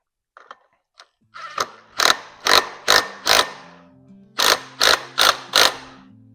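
A ratchet tightens a nut on the mount of an RMW 270-degree awning. After a few faint taps, nine sharp, loud ratcheting strokes come close by in two evenly spaced groups.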